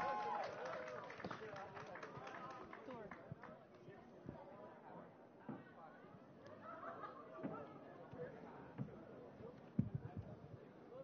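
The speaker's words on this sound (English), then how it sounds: "A big round of applause." Audience applause fills an awards ceremony hall at the APCOM Hero Awards 2017, a steady dense patter of many hands clapping at moderate volume while voices chatter underneath.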